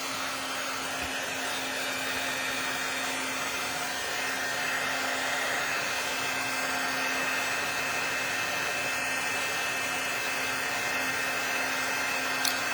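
A heat tool blows steadily and close at a constant pitch, melting embossing powder from below, a smooth hum and airy rush with no talk.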